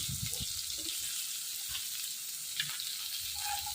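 Soft paneer frying in oil with salt and turmeric, a steady close sizzle with light stirring clicks throughout.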